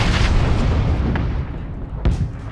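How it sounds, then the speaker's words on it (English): A frag grenade explodes in the PUBG battle royale game, a loud low boom with rumbling debris fading over a couple of seconds, followed by a sharper secondary blast near the end. "I wanna throw a frag."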